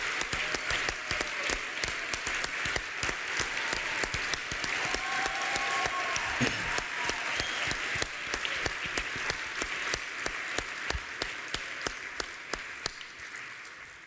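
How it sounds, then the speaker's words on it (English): Sustained applause from an audience at an awards presentation honouring award recipients, a dense steady wash of many hands clapping at even loudness throughout, fading slightly toward the end. "let's give them one more big round of applause"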